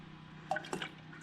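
Water trickles and drips into the cooling system of a 2014 Toyota Tundra, a few faint splashes and drips over a low steady hum.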